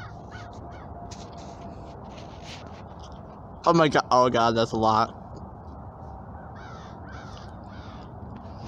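Crows cawing in a video game, a loud burst of several harsh caws in quick succession midway through, with someone talking before and after over steady background ambience.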